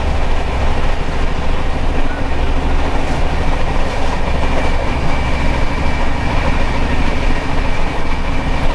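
Steady loud rumble of the Kerala Superfast Express running on rails between Nellore and Vijayawada, heard from inside the carriage with continuous wheel clatter and no talking.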